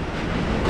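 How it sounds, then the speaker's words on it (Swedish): Train arriving at a station, a brief, steady, loud rumbling roar that builds slightly. "Och nu kommer tåget här."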